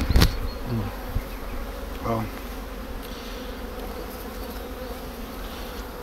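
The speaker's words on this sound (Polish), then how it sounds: "Otwarty ul, pszczoły sobie coś robią." Buckfast honey bees buzz around an open beehive in spring, a steady soft droning hum with a few nearer passes and light handling knocks at the start.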